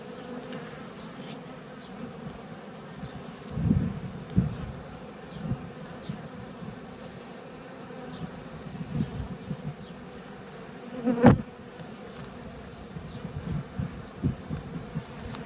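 Steady buzzing of many honeybees around the hive during varroa mite treatment fills the air, a continuous drone with occasional louder thumps and rustles nearby.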